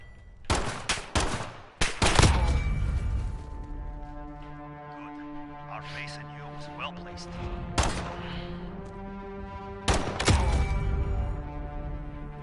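Light machine gun fire in a first-person shooter: sharp, loud shot bursts at the start, then isolated shots around eight and ten seconds over a tonal game soundtrack.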